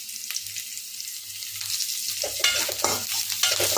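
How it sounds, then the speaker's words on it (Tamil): Onions sautéing with salt in a pan for a village-style Tamil brinjal stir-fry, a steady close sizzle broken by scraping stirs that grow busier and louder toward the end, with no talk. "வெங்காயம் கொஞ்சம் வதங்கட்டுங்க நல்லா."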